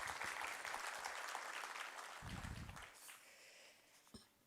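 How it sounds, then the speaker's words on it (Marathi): Audience applause at a poetry book launch ceremony, a broad wash of clapping for most of the clip that thins out toward the end, with a brief knock near the close. "सर्वांकरता एकदा जोरदार टाळ्या होऊन जाऊ देत."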